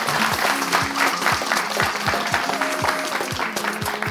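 A studio audience at a French TV talent show applauds steadily, a dense wash of clapping under a rhythmic musical beat, close and fairly loud throughout.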